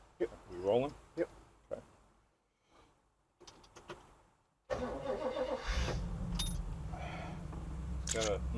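A 1956 Chrysler 300B Boano Coupe engine cranks and fires into a steady low idle rumble, preceded by clicks, rustling and a brief spoken word from the occupants.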